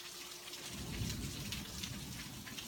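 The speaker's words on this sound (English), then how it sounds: "What's going on with the rain right now?" Steady rain falling during a thunderstorm, a dense continuous hiss of drops with a low rumble of thunder swelling underneath around the middle, no voices.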